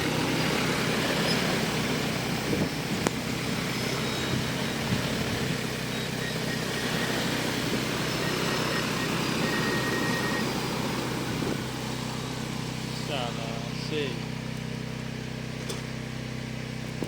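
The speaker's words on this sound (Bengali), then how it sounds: "এখন ড্রোনটা এখানে ল্যান্ড করবে" An agricultural crop-spraying drone used for spreading fertilizer over farm fields in a Chinese village flies in to land, giving a steady mechanical whirring drone that holds at constant loudness throughout, with a few faint tonal whines near the end.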